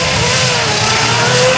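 A 2JZ-powered dirt dragster revs hard and accelerates, a loud, continuous high-pitched engine roar that holds steady throughout with no voices.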